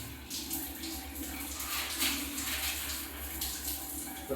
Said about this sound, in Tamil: ப்ரெஷர் இல்லை, ஆனால் தண்ணி வருது.